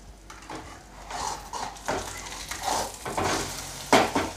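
Onion egg (muttai) cooking in a pan and being turned over with a spatula: soft sizzle with scraping and clinks of the utensil against the pan, close by, rising to a sharper scrape near the end.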